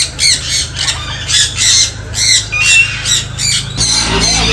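Parrots squawk repeatedly at a bird park in Pigeon Forge, Tennessee, loud harsh calls in bursts over a low steady background hum, with no talking.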